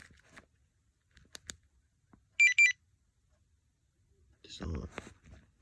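A muscle car's security alarm system gives a short chirping tone, two quick bright beeps in a quiet interior, with someone talking faintly before and after.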